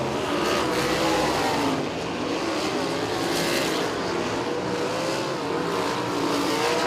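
USAC sprint cars racing at Kokomo Speedway, their engines roaring continuously as the pack circles the dirt oval, loud and sustained with rising and falling revs.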